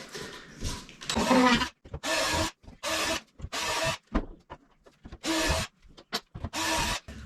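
Repeated bursts of drilling through the plastic hull of a Hobie Passport kayak, roughly six grinding pulses of about half a second each, separated by short pauses and close to the microphone.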